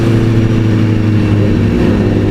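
Yamaha R1 superbike engine revving loudly and close by in a desert setting, a deep, steady roar that holds without a break.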